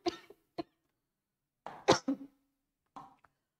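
Several sharp coughs come in separate bursts, close and fairly loud, with a cluster of harsher coughs in the middle and silence between.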